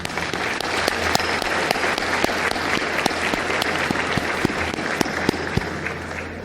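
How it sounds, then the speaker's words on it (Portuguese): Sustained applause from a large audience at a solemn church session honoring the Assembleia de Deus, with dense, even clapping and occasional sharp individual claps standing out. "proponho uma salva de palmas aí a ele"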